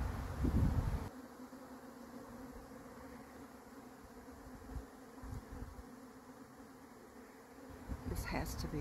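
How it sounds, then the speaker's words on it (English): A honeybee swarm buzzes outdoors in August, a continuous insect drone that stays steady in the background, with a brief louder burst at the start and a few faint other sounds. "That louder buzzing, I don't know if you can see, sounds like a swarm"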